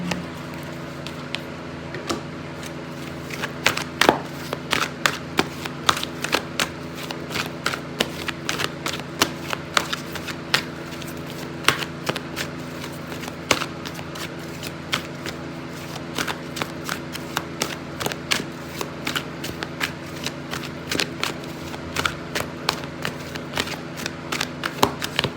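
Tarot cards shuffled continuously by hand at close range, a steady stream of soft riffling clicks and taps over a low room hum, no talk.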